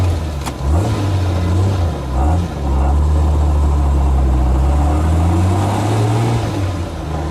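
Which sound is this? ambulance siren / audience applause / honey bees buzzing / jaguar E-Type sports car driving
jaguar E-Type sports car driving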